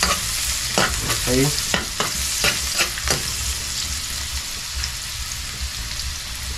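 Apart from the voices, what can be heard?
garlic sautéing in a pan for caldereta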